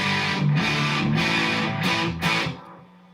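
Electric guitar run through a Boss Mega Distortion pedal, high-gain single-coil tone, plays several loud sustained distorted chords with rhythmic re-strikes before ringing off.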